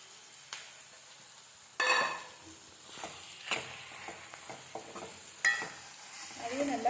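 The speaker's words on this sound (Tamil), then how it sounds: "இப்போ இந்த ஸ்டேஜில் புளி கரைசலை கொஞ்சம் ஊற்றிப்போம்" Tamarind water poured into a pan of cooking bitter gourd: a sudden soft splash and hiss, followed by faint, intermittent sizzling and light stirring scrapes.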